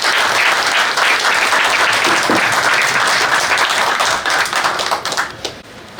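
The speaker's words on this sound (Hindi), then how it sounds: "जोर से खूब तालियां बजाएंगे।" Loud, dense clapping from school staff at a retirement farewell for a Hindi lecturer carries on continuously, then thins out in the final second.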